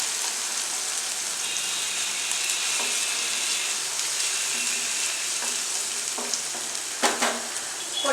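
Vegetables, including carrots and beans with ginger-garlic paste, sizzle and crackle steadily in a hot pan for egg fried rice, with occasional scraping knocks of a spoon stirring them, louder near the end.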